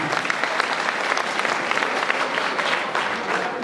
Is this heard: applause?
yes